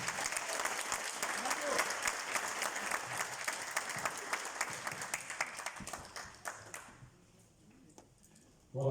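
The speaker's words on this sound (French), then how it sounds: "je vais demander d'applaudir encore davantage pour la clarté" Conference audience at a finance inspection debate in Brussels applauding: dense, steady clapping from a crowd filling the room for about seven seconds, then fading out abruptly to near silence.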